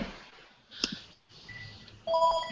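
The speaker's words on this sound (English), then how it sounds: "whose phone is ringing here?" A mobile phone rings during an online English class, a short electronic melody of bright tones entering near the end, after a brief beep and faint background sounds with no talk.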